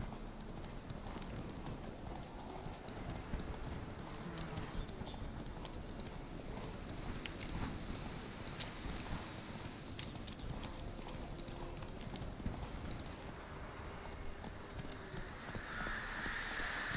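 A horse clip-clops at a steady gallop through The Witcher 3: Wild Hunt, rhythmic hoofbeats running continuously over an ambient game soundscape with a few sharp clicks.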